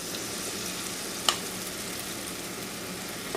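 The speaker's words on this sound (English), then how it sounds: "And if it doesn't sizzle when you pour it in, it's not warm enough." Cornbread batter from stone ground meal sizzling in a hot preheated pan with melted fat, a steady soft frying hiss with one brief clink, fairly quiet and without talk.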